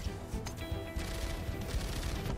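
Rapid gunfire rattles in an animated battle while a vehicle is driven, a quiet, dense string of bursts at a fairly even level throughout.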